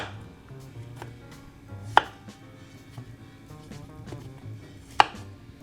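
Large mushrooms quartered with a knife on a cutting board for Japanese mushroom curry, giving a few soft cuts and two distinct sharp knocks of the blade against the board, a few seconds apart.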